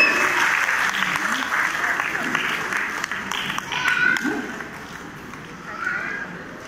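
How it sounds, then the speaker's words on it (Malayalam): A crowd applauds with dense, steady clapping that slowly thins out, voices talking over and under it. "കൈയടിച്ചെല്ലാരും."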